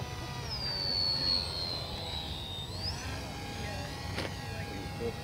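Electric motor of an RC delta wing pusher plane whines with a rising and falling high-pitched tone over steady low rumble, outdoors at moderate distance.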